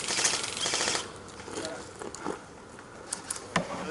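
Airsoft microgun fire during an outdoor game, a rapid buzzing rattle of shots strongest at the start and then fading into scattered pops, with faint talk mixed in.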